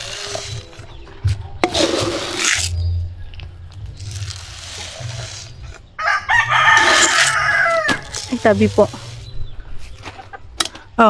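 Farm chickens cluck on and off while a rooster crows several times nearby, with a person speaking briefly and rustling movement in the coop.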